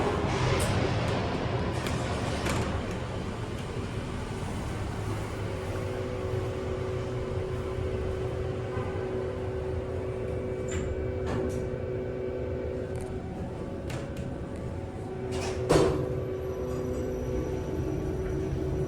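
A worn Kone EcoDisc traction elevator in a parking garage runs with a steady low hum and faint whine, scattered clicks and a brief louder clunk near the end.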